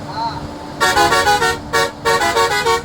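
The favourite musical horn of a Naw Alankar Travels five-star bus blares in several loud, close melodic bursts separated by short pauses, after a moment of quieter background with faint talk.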